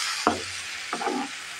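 Water poured into a hot pan of cooking fish, giving two sharp hissing bursts of sizzle over a steady background frying noise, close by with no talking.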